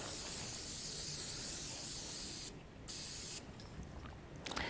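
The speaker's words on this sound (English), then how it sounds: "I'm just taking some of my stick and spray, and I'm going to pop some of that onto the back of my stencil" Stick and spray adhesive is sprayed onto the back of a stencil in a steady, close, loud hiss. It breaks off briefly twice and then resumes, with no one speaking.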